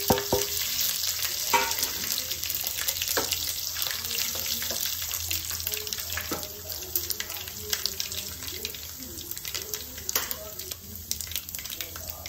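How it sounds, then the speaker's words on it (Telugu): Cumin, mustard seeds, dried red chillies and curry leaves hit hot oil in a pan, giving a steady close sizzle and crackle with light stirring clatter throughout. "దీంట్లో జీలకర్ర, ఆవాలు, ఎండుమిర్చి,"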